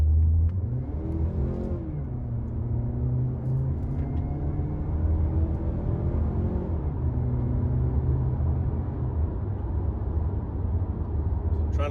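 A 2021 Mazda CX-30 2.5 S Premium accelerating hard in sport mode, engine note climbing steadily past 5,000 RPM from inside the cabin, a smooth rising rumble that eases off near the end.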